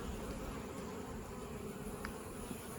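Honey bees at a hive during an Apiguard treatment in fall produce a continuous, quiet, even buzz, with a faint brief tick partway through.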